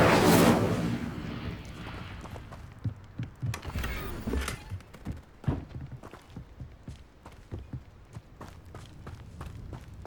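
Incendio fire spell cast in Hogwarts Legacy: a loud fiery whoosh at the start, then a string of sharp magical bursts and impacts with footsteps between them, spaced irregularly and fading in intensity.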